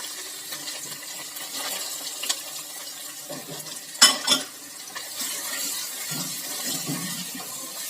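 Steady sizzling of onions frying in a hot pan, with occasional stirring scrapes and a brief louder clatter midway.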